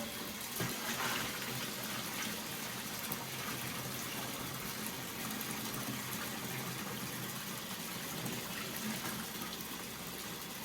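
Herbal tea from a stock pot pouring into a filled bathtub, a steady broadband gush of water running continuously and fairly close.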